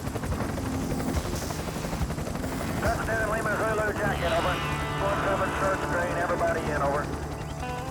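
A helicopter's steady rotor drone fills the background at moderate volume, while voices talk over it throughout.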